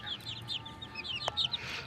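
Caged desi chickens cluck and chirp in quick, overlapping calls, with one sharp clatter partway through, over a quiet background with no talking.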